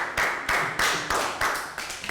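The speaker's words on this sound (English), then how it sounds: "Round of applause for Pat." A Year 3 class claps for a classmate during a recycling lesson: a run of about seven evenly spaced, sharp claps, moderately quiet, with no voices over them.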